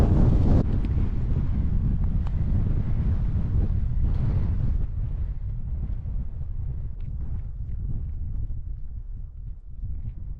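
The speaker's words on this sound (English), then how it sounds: "It's really windy." Strong wind buffets the microphone atop Conic Hill along the West Highland Way in summer, a loud continuous roar that eases slightly after the first few seconds, with no one talking.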